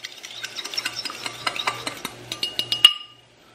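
Eggs and egg whites are whisked in a pan, with a fork or whisk making quick, regular clinking taps. The taps are close and light, then stop abruptly.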